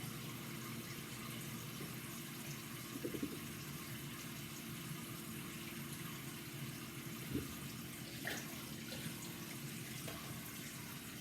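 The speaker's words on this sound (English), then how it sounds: "now I want to add more cold water to it" Cold water runs from a kitchen tap into a bowl holding ice cubes and sweet potatoes. The steady, faint stream is heard alone with a few soft knocks.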